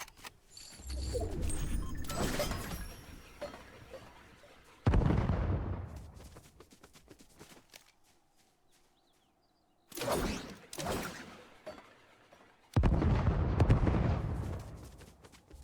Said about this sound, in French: je décide d'utiliser les nouvelles grenades de la saison pour vous montrer un peu leurs effets